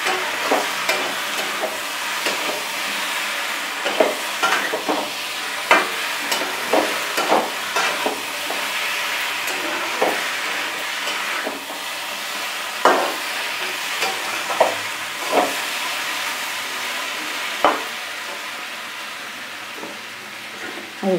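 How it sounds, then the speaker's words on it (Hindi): A spoon scrapes and stirs fried potato and cauliflower curry in a pan, with repeated clattering strokes over a steady loud sizzle and no voices. "अब इसमें डालेंगे भुनी हुई सब्जी। अब अच्छी तरह से हम मिलाएंगे।"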